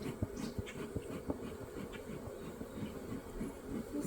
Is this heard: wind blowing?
no